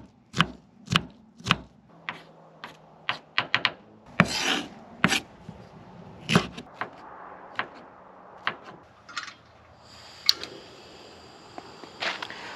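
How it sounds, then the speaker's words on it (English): A knife cubes vegetables on a cutting board while preparing a camp meal, giving sharp, close chopping strikes in irregular bursts with a few scraping pauses between them. "For this, I'm actually gonna cube all of the vegetables."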